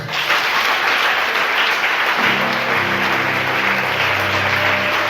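A church congregation applauds the Lord at a spiritual revival service, with loud sustained clapping that fills the room throughout, while voices join in partway and rise in sung or chanted tones over the applause.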